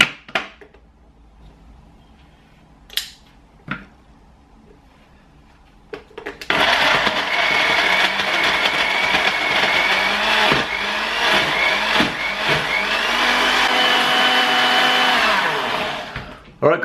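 A blender that is not a high-end model whirs loudly and steadily as it blends an almond milk shake, starting abruptly after a quiet stretch and running continuously for about ten seconds before cutting off.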